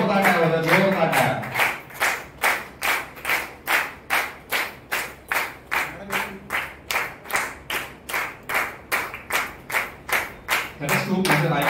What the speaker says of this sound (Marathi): जोरदार टाळ्या होत्या. जोरदार टाळ्या.